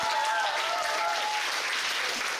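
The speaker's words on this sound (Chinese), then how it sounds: "哎，鼓掌！" Applause from a seated audience at a talk, a dense, steady patter of many hands clapping at moderate distance, holding evenly for a couple of seconds with no voices over it.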